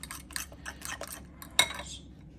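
A utensil beats a ground meat mixture in a bowl for stuffed eggs, a run of quick clattering strokes against the bowl ending in one sharp metallic clink, close and moderately loud.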